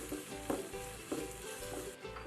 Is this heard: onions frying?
yes